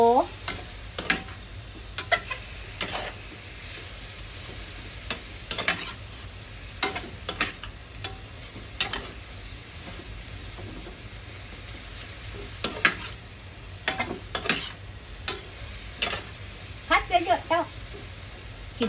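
Pork neck and Thai round eggplant are stir-fried in a pan, giving a constant sizzle broken by repeated scraping and clattering strokes of the spatula. A voice talks over the cooking.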